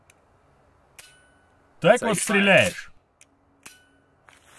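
A Remington 870 pump shotgun is dry-fired, giving several sharp, isolated metallic trigger clicks spaced irregularly over a few seconds, with someone briefly speaking between them in an otherwise quiet room.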